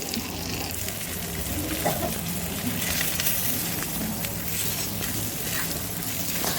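Bangda mackerel frying on a hot tawa, a steady dense sizzle and crackle holding evenly throughout, close and moderately loud with no talking.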